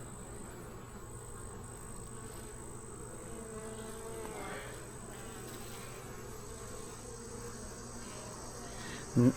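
Honeybees buzzing around an open hive during an inspection, a faint, continuous, even drone with a brief knock near the end.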